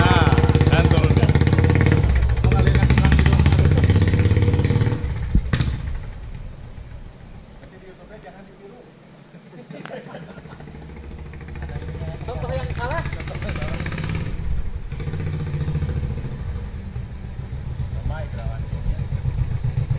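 A Royal Enfield 350/500cc motorcycle engine running, a loud thumping idle that drops away midway and then returns as a lower steady rumble, with people talking over it.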